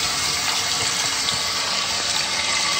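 Water gushes and pours steadily out of a newly installed steam boiler during cleaning, with a loud, continuous rushing hiss that never lets up, close by, with no voices.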